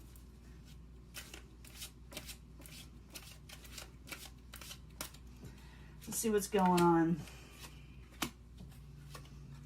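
Tarot cards shuffled by hand during a reading, heard as a run of crisp, rhythmic riffling snaps close by, with a brief spoken remark and a short tonal vocal sound partway through.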